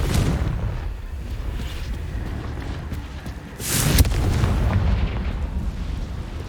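The Confringo fire spell exploding in Hogwarts Legacy, with a deep rumbling boom and a sharp burst partway through over a continuous low roar of game ambience.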